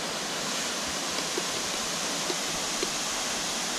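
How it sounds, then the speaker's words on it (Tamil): Chelavara waterfall pours in a steady, dense roar of rushing water, loud and continuous throughout with no pauses and no voices. "ஸோ மக்களே, இதுதான் செல்லவரா வாட்டர் ஃபால்ஸ்"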